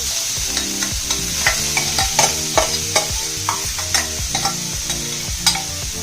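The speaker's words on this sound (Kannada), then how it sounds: "ಕ್ಯಾರೆಟ್ ಚೆನ್ನಾಗಿ ಹುರ್ಕೋಬೇಕು. ಅದು ತುಪ್ಪದಲ್ಲೇ ಹುರಿಬೇಕು" Grated carrot frying in ghee in a pan, a close steady sizzle broken by regular scraping and clinking strokes of a spoon stirring against the metal, roughly one or two per second, with no talking.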